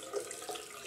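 Tap water runs into a bathroom sink while waiting for it to warm for shaving, a steady close splashing rush, with no talk during it.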